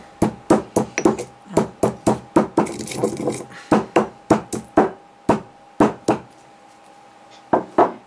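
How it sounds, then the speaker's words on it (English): A series of sharp hammer strikes on star anise, about twenty knocks in uneven bursts, close and loud, with brief pauses between groups. "I'm going to pop a star anise in there, and I'm going to just lightly hammer down on it."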